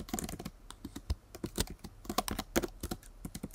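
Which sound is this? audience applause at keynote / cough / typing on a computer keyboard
typing on a computer keyboard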